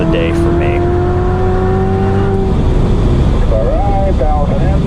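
A 2019 Chevrolet Corvette ZR1 on a fast track lap, its engine holding a loud, steady drone with a sustained tone that drops and then rises again, heard from inside the car under a voice.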